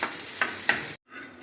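A tempering of mustard seeds, cumin and garlic sizzles in hot oil, a steady close hiss with a couple of stirring clinks, then a brief cut before the frying resumes more softly.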